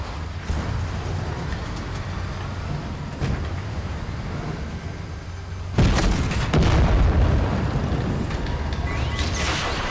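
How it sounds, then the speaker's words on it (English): A missile explodes in the Fortnite video game, a deep booming blast that jumps out of a steady rumbling background and leaves a louder, sustained roar afterward. "Whoa, missile incoming."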